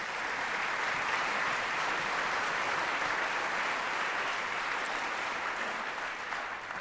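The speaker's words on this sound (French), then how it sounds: "une main d'applaudissements pour tous nos chanteurs est de mise" Steady, dense applause from a gala audience for the singers at a lyric concert, continuous and even throughout with no voices on top.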